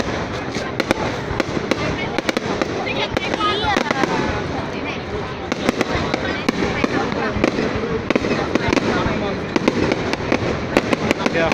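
Fireworks bursting near a bridge in the minutes before a scheduled display, a rapid irregular string of loud cracks and pops over crowd noise, with people talking close by.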